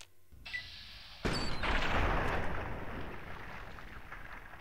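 Gunfire against raiders in Fallout 3: a sharp blast hits suddenly, then a sustained roar of shots and booms fades slowly, with a faint tone beforehand and no talk.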